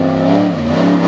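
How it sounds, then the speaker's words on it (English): An off-road truck engine revs hard, loud and close, as the rig works across red clay in the Appalachian Mountains during an All Star Championship race, its steady harmonic drone wavering slightly in pitch throughout. "she works the truck around the red clay here in the Appalachian Mountains"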